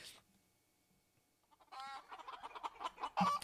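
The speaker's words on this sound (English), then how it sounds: "We chase a lot of chickens." Chickens clucking, a short burst of busy, close fowl calls with a faint crow-like note, following a near-silent opening.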